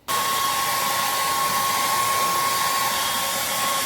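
A hair dryer switches on abruptly and blows continuously at close range, a loud steady whoosh with a thin high whine, no talking.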